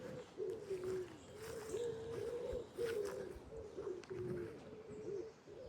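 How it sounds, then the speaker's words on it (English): Soft, repeated cooing of doves or pigeons in a gentle rhythmic pattern at 5am, fairly distant, with faint other morning birdsong in the background. "I'm not sure if you can hear the birds song so much this morning"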